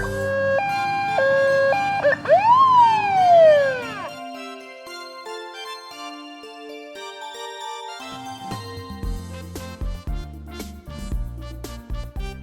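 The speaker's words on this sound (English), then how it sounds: "Police car." A police car siren wails loudly, switching from a two-tone pattern to a rising and falling sweep, then stops and gives way to other electronic tones and tapping sounds.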